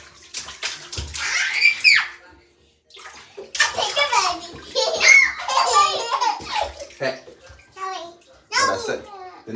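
A child splashing water in a bathtub, with sloshing bursts mixed with the child's excited chatter, giggles and laughter up close, broken by brief quiet pauses.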